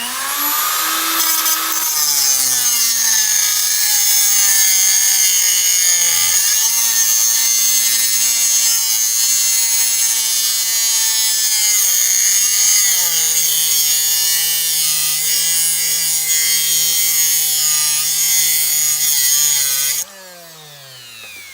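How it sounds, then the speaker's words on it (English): A cutoff wheel grinds through a wheel stud on the axle of a 2002 Hyundai Santa Fe, giving a loud continuous high whine with a shifting pitch for about twenty seconds before it abruptly drops away, no talking. "So now, I'm gonna go ahead and process cut this off."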